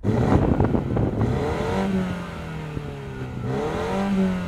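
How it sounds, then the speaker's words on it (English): A BMW M135i petrol engine fitted with a particulate filter revs up hard and climbs through the range in a loud, close sound check, the note rising and falling across sustained harmonic bands with no talking. "See if the BMW's any better. Go on BMW, rev it up."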